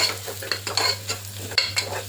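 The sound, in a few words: chili powder frying and being stirred in a pan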